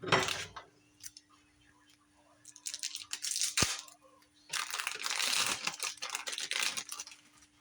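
Bologna slices laid into a frying pan: scattered clinks and light scraping, then a bright burst of sizzling that rises and fades in waves, fairly close and moderately quiet.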